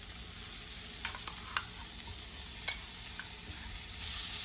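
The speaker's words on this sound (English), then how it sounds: "And now we're just gonna quickly cook our shrimp." Shrimp cooking in melted butter in a pan, a steady broadband sizzle and hiss with a few brief louder pops and crackles, close up and continuous with no talking.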